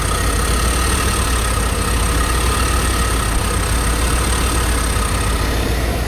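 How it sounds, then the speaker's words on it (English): A 1993 Ford Econoline van engine idles roughly and unevenly, a steady low rumble with a constant high whine, close by and without pause. "That idle doesn't sound very smooth to me."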